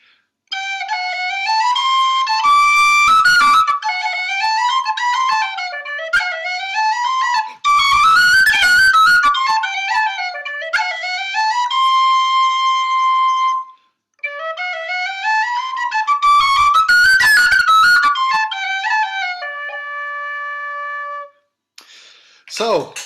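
Tin whistle in D playing a run of clear, bright notes in short melodic phrases, settling on sustained held tones, with breaks between passages; close and solo, no talking.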